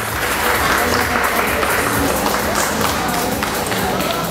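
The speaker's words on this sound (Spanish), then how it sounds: "Vamos a darle un fuerte aplauso, por favor, a Anaí, que se escuche esta noche para ella." A crowd at a quinceañera celebration in Cerro Azul applauds loudly and continuously, dense clapping with cheering voices mixed in throughout.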